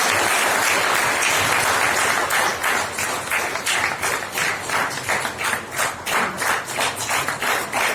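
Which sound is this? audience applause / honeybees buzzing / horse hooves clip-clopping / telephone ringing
audience applause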